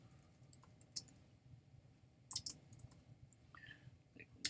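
A computer mouse clicks in scattered single, double and triple presses over a low steady hum, with quiet keyboard taps in between and no one talking.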